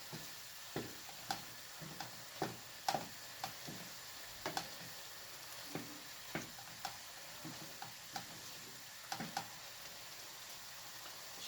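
A filling of liver and rice, seasoned with salt, red pepper and thyme, cooks in a pan with a faint, steady sizzle. Sharp clicks from stirring or bubbling punctuate it at a fairly regular pace of about one per second.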